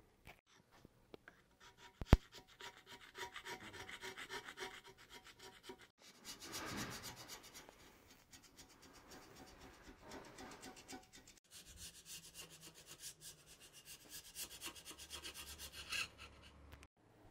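Scraping on the deck surface of a Ford 300 engine block, heard as close, rhythmic rubbing strokes in several bursts with short pauses between them and a sharp tap early on.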